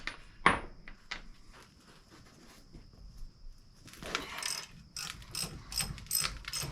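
Ratchet clicking while loosening a 30mm axle lock nut on a 2006 Chevy HHR during wheel bearing work; a sharp clack, then sparse clicks and a burst of quicker ratcheting near the end, fairly close and moderately loud.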